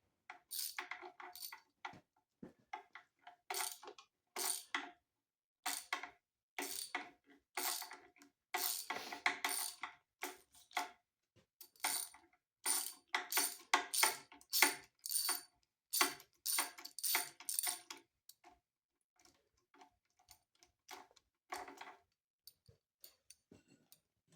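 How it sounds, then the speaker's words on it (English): A breaker bar on a swivel ratchets against engine bolts on a 1948 Case VA tractor during disassembly, giving bursts of rapid metallic clicking that start and stop in uneven spurts, fairly quiet and close, with no talk. "Probably shouldn't use a breaker bar on a swivel, but in this circumstance, I don't have much of a choice."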